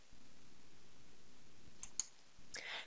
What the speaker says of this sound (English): you can click on your Add button